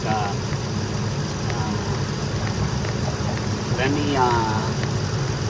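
A steady, even idle hum from the 3.5L engine of a 2018 Ford Explorer with timing chain faults, holding constant throughout with faint mechanical ticks and a brief higher whine near the end.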